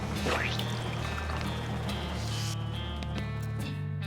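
Steady rushing of hot water pouring from a machine in the video game West of Loathing, continuous and fairly loud, with faint mechanical hum underneath.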